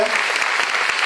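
Audience applause at a film presentation for Gibraltar, a short burst of dense clapping from a crowd with a voice faintly under it.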